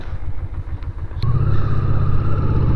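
A Honda Ascot motorcycle pulling away, its engine rising into a louder, steadier drone after a short idle with faint clatter, close by and loud.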